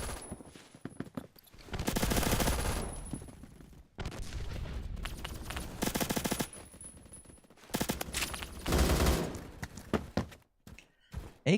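AK-12M rifle fire in a Roblox shooter: several long, loud bursts of rapid automatic gunfire separated by short pauses, with quieter clicks and handling noises between them.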